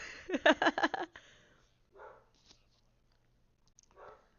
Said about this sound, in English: I can hear my dog barking